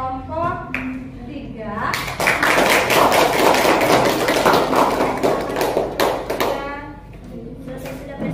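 Audience in a classroom applauds a presenting group after a teacher-training presentation, a dense burst of clapping for several seconds with voices talking over the start and end.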